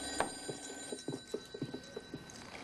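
A telephone rings indoors in a TV drama scene with a steady, tonal ring running under a string of light, regular clicks and taps. Nobody speaks.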